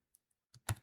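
A few quiet computer keyboard keystrokes while entering arrow and currency symbols, two faint isolated taps followed by a quick cluster of louder clacks, close up with no talking.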